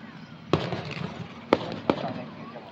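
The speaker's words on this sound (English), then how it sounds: "Yo, we got amazing fireworks." Three sharp Fourth of July fireworks bangs, well spaced, with a faint crackle and background voices between them.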